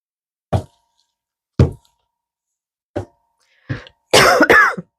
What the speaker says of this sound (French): C'est embêtant, hein, quand une toux, elle arrive